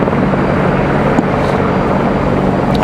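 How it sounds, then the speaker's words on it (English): Delta Boeing 737 airliner arriving from Atlanta at Raleigh Durham airport, a loud, steady jet engine roar close by that fills the whole stretch with no talk. "This is Delta 3244 coming in from Atlanta, Georgia. This is going to be a 737 at 900."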